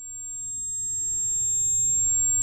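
A thin, piercing high-pitched steady tone imitates the ringing of tinnitus in the ears, held constant over a faint low rumble that slowly rises in level. No speech.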